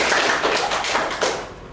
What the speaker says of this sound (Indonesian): tepuk tangan dulu untuk Ayu Sina